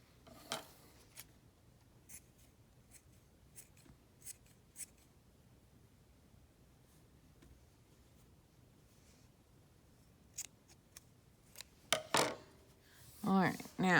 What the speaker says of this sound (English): we're going to trim off any of these extras